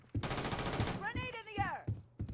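Rapid gunfire from the video game Starfield, a fairly quiet burst of quick shots followed by a few separate bangs, with voices speaking over the top.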